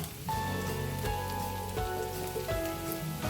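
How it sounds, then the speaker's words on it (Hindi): Whole garam masala spices fry with golden-brown onions in hot oil, giving a steady close sizzle and crackle with a few bright clinks of a utensil against the pan. "इसे थोड़ा सा फ्राई करेंगे।"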